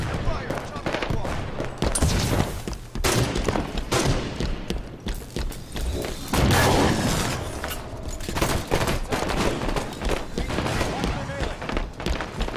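Gunfire in a Halo 5: Guardians arena team slayer match, repeated rapid bursts and heavy single shots cracking loudly throughout, with someone talking over the fighting.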